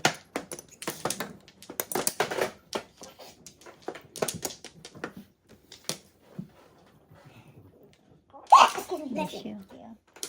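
A child chatters and is interrupted by a sudden sharp sneeze near the end, close by, with a burst of breathy noise.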